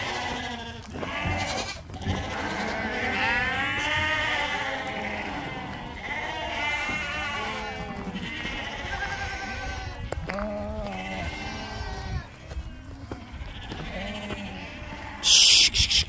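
Sheep and goats bleat repeatedly as they are let out of a pen into pasture, with many overlapping calls near and far in a busy, continuous chorus and a brief rustle at the end.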